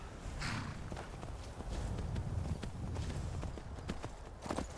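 Hooves clip-clop in a steady trotting rhythm as a horse is ridden in the video game Skyrim VR, continuous and fairly close over a dull ambient background.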